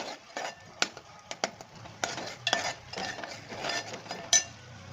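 A spoon stirs ginger-garlic paste masala in a pan for Nagpuri Saoji vadi-vangyachi bhaji, giving close, uneven clinks and scrapes of metal with a soft frying hiss between them and no talk.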